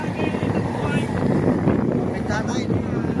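Strong wind buffets a boat crossing to Alabat as waves slap the hull, a constant roaring rush with heavier thuds, while voices talk faintly in the mix.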